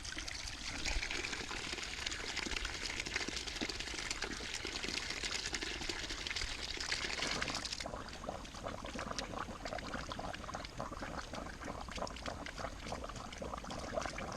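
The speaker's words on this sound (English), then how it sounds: "That's the air bubbles coming out." Air bubbles gurgle and trickle out of a ram pump water line feeding a raised bed garden, a steady close watery stream with no talk.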